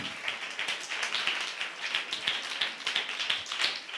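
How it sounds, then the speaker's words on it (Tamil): A church congregation claps hands together in thanks, a dense, steady patter of many hands continuing evenly throughout. "கைத்தட்டி ஆண்டவருக்கு நன்றி சொல்லுங்களேன்."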